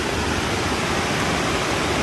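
A roadside waterfall near Thodupuzha on the Moolamattam road gives a steady, loud, broadband rush of falling water with no change in level and no voices.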